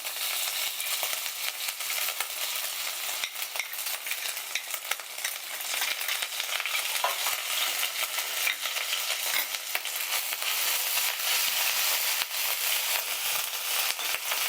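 Ginger paste fries in hot oil over a low flame after bay leaves, with a dense, crackling sizzle full of quick spitting pops that runs continuously and close, without speech.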